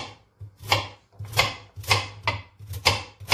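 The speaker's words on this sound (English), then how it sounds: "So in the meantime, you cut your carrots," A knife chops carrots quickly on a cutting board, a string of crisp, slightly uneven strokes close by, with no one speaking.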